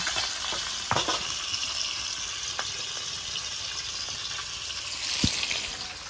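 Rohu fish pieces fry in hot oil in a pan, giving a continuous hissing sizzle sprinkled with scattered pops and crackles, one louder snap near the end, heard up close.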